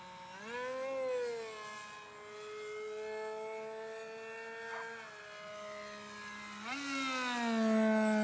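A high electric motor whine from an RC airplane rises and falls in pitch as the throttle changes, steady and fairly close, with no talking.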